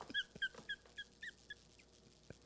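A dog whimpers and yips in a run of about six short, high, nasal cries at a steady pace, fairly close, with no one talking over them.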